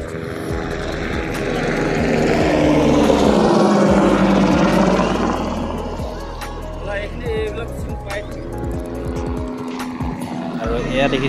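A helicopter flies overhead along a high mountain pilgrimage route to the Amarnath cave, its loud, steady rotor roar swelling and then easing over about eleven seconds while people talk nearby.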